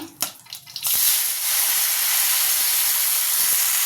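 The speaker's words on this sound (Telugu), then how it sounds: "ఇప్పుడు అదే నూనెలో కట్ చేసి పెట్టుకున్న టమాటా వేద్దాం" Chopped tomatoes drop into hot oil in a pan and burst into a loud, steady, close sizzle that holds without a break, after a few brief clatters at the start.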